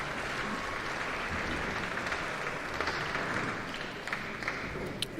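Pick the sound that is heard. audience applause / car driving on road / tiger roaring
audience applause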